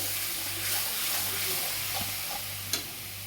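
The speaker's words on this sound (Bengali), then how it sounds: "মশলাটা ভাজা ভাজা হয়ে গেছে" Spice paste for a hilsa fish curry sizzles in a pan, a steady soft frying hiss with faint stirring scrapes and a sharp clink near the end, heard close and alone.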